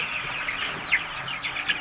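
Farm chickens clucking at a poultry farm, several birds at close range giving short, irregular clucks and squawks over a steady background of fowl noise.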